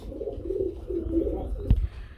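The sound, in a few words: helmet pigeons cooing at a pigeon sale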